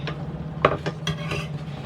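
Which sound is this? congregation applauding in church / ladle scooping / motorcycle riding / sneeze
ladle scooping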